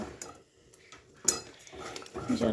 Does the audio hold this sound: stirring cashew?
yes